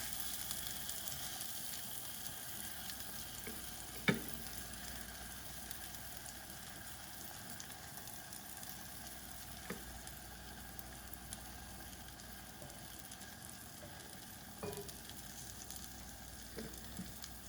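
Cajun-seasoned salmon sizzling quietly in a frying pan, a soft continuous crackle with a few sharp clicks and taps of utensils against the pan.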